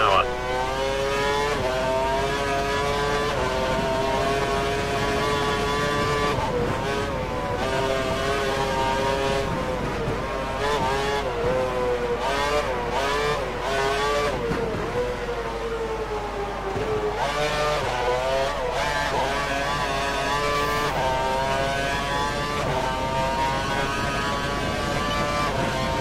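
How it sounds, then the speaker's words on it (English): A Formula 1 race car engine screams at full revs in a video game, a loud continuous high whine with pitch rising and dipping through gear changes and braking, while a voice talks over it at times. "He's running full revs, maximum power."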